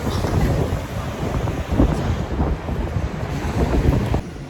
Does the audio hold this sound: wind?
yes